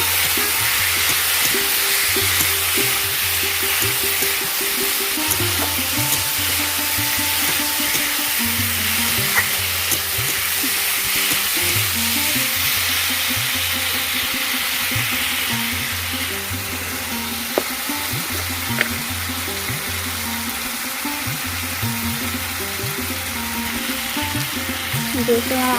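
Cubed potatoes and pointed gourd fry in hot oil as they are stirred in a pan, a steady loud sizzle with repeated scraping strokes of the spatula throughout.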